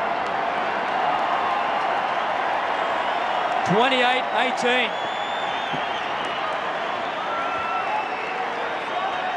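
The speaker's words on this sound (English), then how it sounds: "the crowd are really, really enjoying this" Rugby league crowd in an Eels vs Newcastle match cheering and applauding after a successful kick, a steady broad roar throughout with a commentator talking over it.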